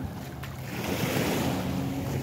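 Sea waves wash steadily onto a shoreline, a broad constant rush of surf mixed with wind buffeting the microphone, close and fairly loud with no voices.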